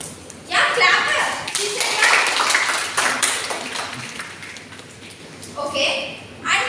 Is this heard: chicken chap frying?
no